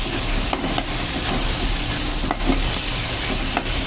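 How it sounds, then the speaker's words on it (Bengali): A mustard, chili and cumin paste is stirred into frying potatoes, with bitter gourd mentioned in the recipe, giving a loud, continuous sizzle. Scraping spoon strokes against the pan come at a steady pace, close up. "বেশ সুন্দর করে কিন্তু এটাকে আমি নাড়াচাড়া দিয়ে নিচ্ছি।"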